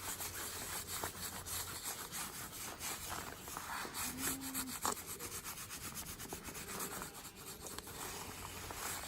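Hands rubbing shampoo into a lamb's wool during a wash before slick shearing, a steady close scrubbing and rustling that runs throughout without pause, with no voices.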